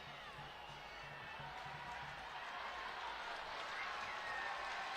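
A stadium crowd at a soccer match between FC Tulsa and Lexington SC applauds and murmurs in a steady, broad wash of clapping that swells slightly toward the end.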